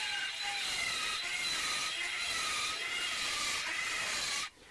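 A grinder cutter whines steadily while porting an aluminum Yamaha 701 engine case, a continuous high rubbing tone that holds for several seconds before suddenly dropping off at the end.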